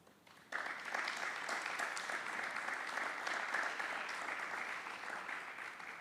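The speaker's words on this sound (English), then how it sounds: "I would like our elected officials to stand so that we can give you a round of applause." Audience applause at a ribbon cutting ceremony for a smart factory at a Volkswagen academy, a sustained burst of clapping from a sizable crowd that starts abruptly and holds steady, no talking.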